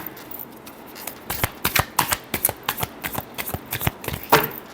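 Tarot cards being shuffled by hand up close, a quick run of crisp, rhythmic riffling snaps and flutters, louder toward the end, with no talking over it.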